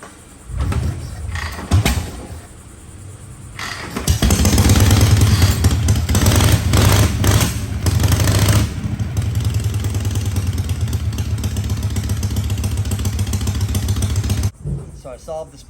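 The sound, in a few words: Knucklehead chopper motorcycle engine starting and idling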